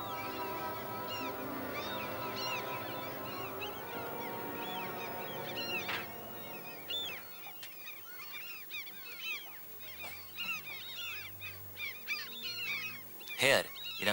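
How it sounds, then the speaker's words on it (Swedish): Gulls screaming around a harbour, many overlapping shrill calls at varying distances, dense at first under a low background hum, then thinning to scattered cries with a loud burst near the end. "I stillheten skar måsarna skri."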